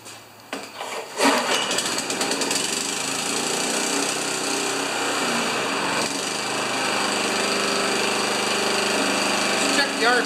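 A Honda HRA214 walk-behind lawn mower with a cleaned rewind starter, sharpened blade and repaired wheels is pulled into life after a short rattle, then settles into a loud, steady engine drone that runs on without a break.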